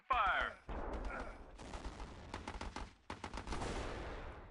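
Bursts of gunfire from the naval strategy game Battle Islands Commanders: a dense opening volley, then repeated rapid shots and sustained firing, loud and close in the game mix, with a voice speaking over part of it.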